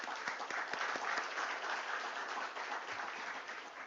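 A crowd at a stock exchange IPO listing ceremony for GNG Electronics claps in a steady, dense round of applause that stays even and full throughout, with no voices over it.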